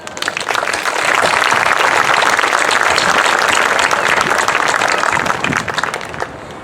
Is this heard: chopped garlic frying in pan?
no